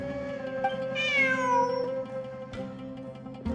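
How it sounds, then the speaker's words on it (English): A cat in a video game gives a single drawn-out meow that rises then slides down in pitch, clear and close over a soft background music bed, with no talking. "Look! A cat!"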